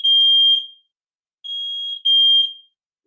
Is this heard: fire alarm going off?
yes